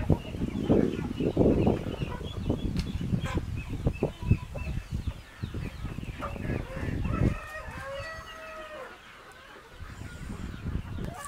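Chickens and ducks on a farm in the Philippines cluck and squawk close by, with a rooster crowing, in a busy, overlapping barnyard chorus that thins out toward the end, with brief voices in the background.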